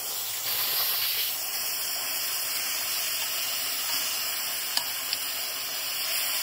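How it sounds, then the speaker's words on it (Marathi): Paneer pieces frying in hot oil over a high gas flame give a steady, close sizzling hiss with a bright steamy edge that carries on throughout, with no talking. "हे बघा, हे पनीर आपलं फ्राय होतंय"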